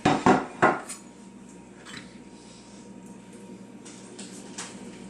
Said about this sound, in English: And I'm going to carve this beef.